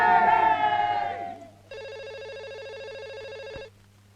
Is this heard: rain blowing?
no